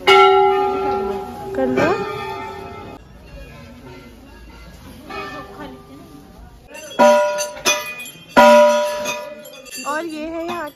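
A large temple bell at a Mata Rani shrine, struck several times with loud ringing strikes that hum and decay between hits, close by, with people talking and other bells clinking around it.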